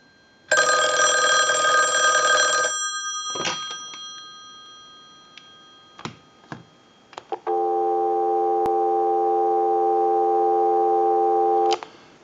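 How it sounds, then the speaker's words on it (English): Western Electric 2500 touch-tone desk telephone under repair: a loud electronic ring burst, several clicks and brief tones, then a steady, continuous dial tone held for about four seconds before cutting off, no voices. "we'll give you some dial tone"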